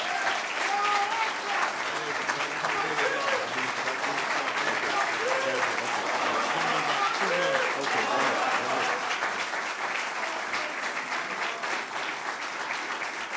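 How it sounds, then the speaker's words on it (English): Sustained audience applause fills a mosque dedication gathering as a minister is brought on stage, a dense, steady wash of clapping at an even level throughout with crowd noise mixed in. "So let's bring him on with a warm round of applause, Minister Donald Muhammad."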